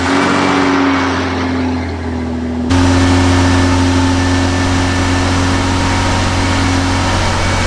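The 2JZ engine of a 1997 Toyota Supra cranks and then fires up with a sudden jump in loudness, settling into a loud, steady idle close by.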